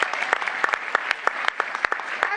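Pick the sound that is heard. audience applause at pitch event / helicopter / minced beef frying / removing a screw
audience applause at pitch event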